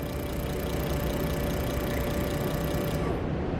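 Fuel injectors on a cleaning and test rig run steadily, giving a loud, continuous mechanical buzz with a fine rapid pulsing texture that holds evenly throughout, alone with no talk.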